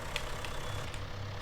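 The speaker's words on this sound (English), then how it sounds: "Maybe not the best tractor actually for this." A tractor fitted with a sickle bar mower idles steadily in a field, a continuous low, rough engine rumble with no talk.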